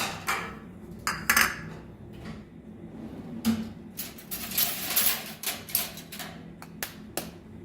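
An egg is cracked against a bowl while preparing custard, giving several sharp, close taps and clinks in quick irregular bursts amid faint kitchen clatter.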